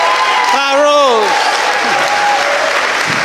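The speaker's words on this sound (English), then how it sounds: "Give her a round of applause." Audience applause at a presidential candidates forum in Selma, continuous clapping filling the room while a voice speaks loudly over it near the start.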